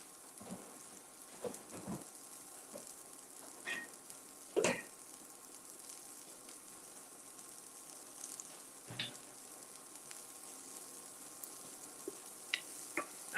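Cauliflower fried rice with cabbage fries in a non-stick pan, a soft steady sizzle running throughout with a few sharper clicks and scrapes from a spatula, fairly quiet and without speech.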